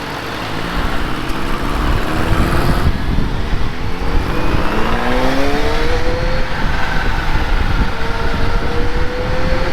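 A Kawasaki ZH2 motorcycle in its powerful riding mode with traction control set to plus one pulls hard, its engine note climbing steadily in pitch through the gears. The sound is loud and continuous, with constant wind rush behind it.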